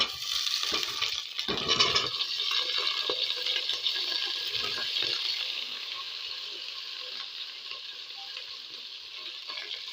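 Chopped vegetables tossed into a hot pan with browned rohu fish, giving a steady broad sizzle and hiss with a brief clatter early on, then a continuous fry at moderate level with no talk.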